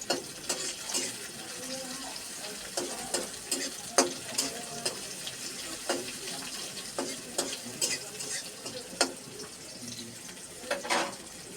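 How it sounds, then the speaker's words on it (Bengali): Onions sizzle in a pan while a spoon stirs them, with a steady frying hiss broken by repeated sharp scrapes and taps of the utensil against the pan. "এখন আম্মু নেড়ে দেবে।"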